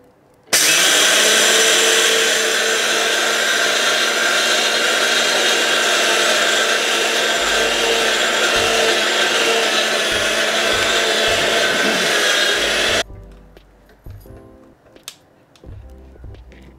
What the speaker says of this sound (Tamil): இப்போ வறுத்த உளுந்த என்னோட மினி மில்லுக்குள்ள போடுறேன்.